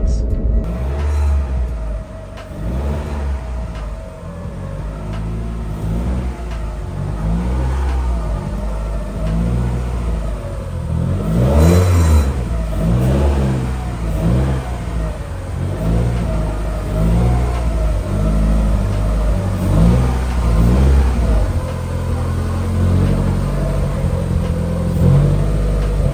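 A car driving on a road at night, its engine rumbling steadily and revving up and down close by throughout, with no talk.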